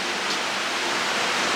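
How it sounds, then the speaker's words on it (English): Rain falls steadily outside a garage workshop, making a dense, even hiss that holds at one level throughout with no talking. "as you can hear, it's raining"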